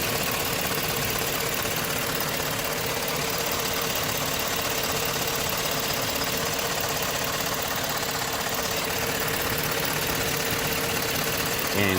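A GM Yukon truck idles after a heater core hose repair, a steady, even engine drone with a faint knock and vibration running throughout, close and moderately loud.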